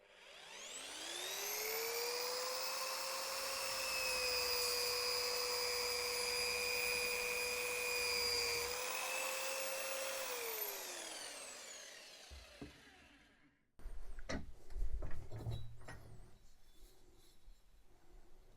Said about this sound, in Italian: Adesso proviamo ad aumentare la velocità e vediamo da questa parte che ancora non è trattato come va